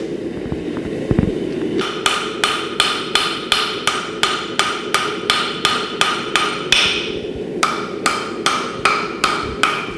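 Steady, evenly spaced hammer blows ring out on a steel blade being forged, a long run of sharp clangs, a brief pause, then more strikes in the same rhythm.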